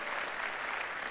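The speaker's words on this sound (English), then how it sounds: "you can give yourself a big, big, big, big clap" An audience claps together at a stage celebration event. The applause is loud, dense and sustained without a break.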